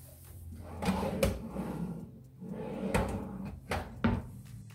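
Bathroom vanity drawers in a stack between dual sinks slide open and shut, giving several soft rumbling glides capped by sharp knocks, fairly quiet in a small room.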